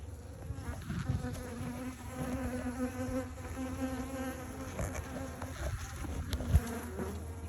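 Honeybees in an open beehive, a colony that survived a hive theft, hum in a dense, steady buzz close by, with occasional soft handling knocks.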